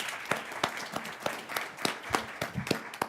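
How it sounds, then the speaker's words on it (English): Sparse, fairly quiet clapping from a school board meeting audience, with distinct individual claps spaced through the room rather than a full ovation. "So let's give a round of applause for that."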